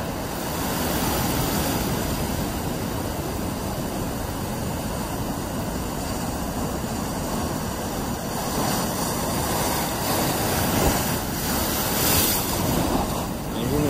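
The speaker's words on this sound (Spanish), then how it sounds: "bueno, pues así está rompiendo el Cantábrico. Fuerte, muy fuerte está hoy." Strong waves of the Cantabrian Sea break and wash in along a seafront promenade, a continuous broad roar of surf with swelling surges, loud and close, and no voices over it.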